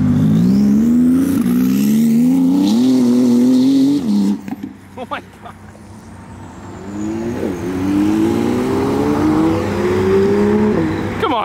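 A 1,000 horsepower Porsche GT2 RS accelerates hard out of a car show, its loud engine climbing through the gears up close, then easing and revving up again, with people's voices mixed in.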